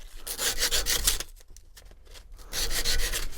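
Quick strokes of sandpaper rub against the sharp edges of a Winchester 370 shotgun part, close and raspy, in two bursts with a brief quieter pause between them.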